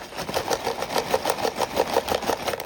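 A Transformers Blokees Defender Series 05 blind box shaken by hand gives a quick, even run of light rattling pulses as loose parts tumble inside, close and fairly soft, with no voices.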